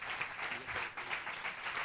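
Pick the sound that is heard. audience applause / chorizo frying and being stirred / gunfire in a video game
audience applause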